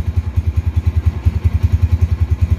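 A 2007 motorcycle's engine running with a steady, rapid thumping pulse, loud and close, while being warmed up, with no voices over it.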